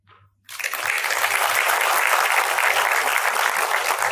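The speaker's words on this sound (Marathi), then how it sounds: "एकदा जोरदार टाळ्या होऊन जाऊ द्यात." Applause bursts out at an award ceremony for the Samashti Ulgulan Award 2025 after a short quiet start. Dense clapping from a large audience swells quickly and holds loud and steady to the end.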